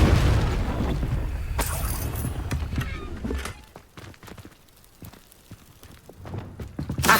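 A Confringo fire spell from Hogwarts Legacy goes off with a loud booming blast, its rumble fading into lighter crackles and thuds before another rise at the end.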